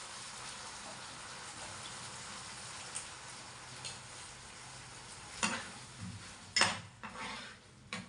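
Mung beans cook in a pan with a quiet, even hiss, then a few sharper scrapes and clinks of a utensil against the pan near the end.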